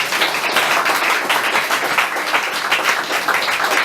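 A church congregation at a Sunday service in Aalst, Belgium, bursts into dense, continuous applause that fills the room evenly from start to finish, with no break or voice above it.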